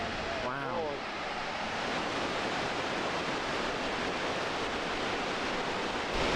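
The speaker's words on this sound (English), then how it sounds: "North Creek Falls." North Creek Falls pours in a constant loud rush of broadband water noise, with a brief voice near the start, continuing unbroken throughout.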